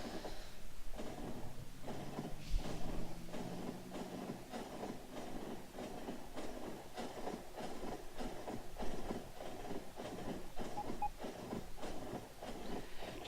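A supply train in the video game Factorio rolls along with faint, steady rumbling and a string of soft rhythmic clicks and clunks, quiet and distant, with no talking.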